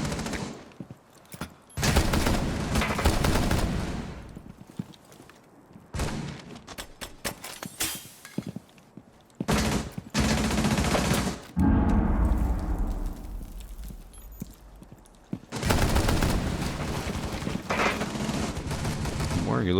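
DMR rifle gunfire in a competitive video game: loud, sharp shots and rapid bursts arrive in uneven clusters, separated by short quiet gaps, with a low rumbling stretch in the middle.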